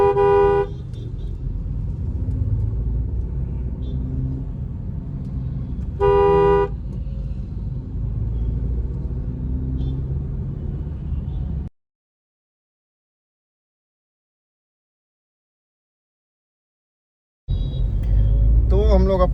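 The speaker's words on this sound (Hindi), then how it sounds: "और यहाँ फिर इतना ट्रैफिक, हद ट्रैफिक, सुबह शाम दोपहर हर टाइम ट्रैफिक ही ट्रैफिक।" Heavy road traffic rumbles loudly and continuously, with two sharp car horn toots early on, a stretch of silence, then more engine noise and a horn returning near the end.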